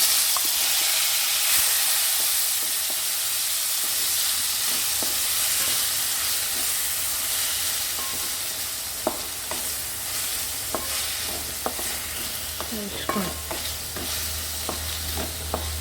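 Pineapple sautéing with salt in a pan for a Goan pineapple curry, a steady close hiss of frying that later gives way to scattered spoon scrapes and taps from stirring, no talking.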